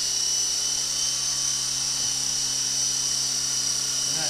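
An Intercepter 052 RC helicopter hovers with a steady, loud high-pitched motor whine and rotor buzz, unbroken and close by throughout.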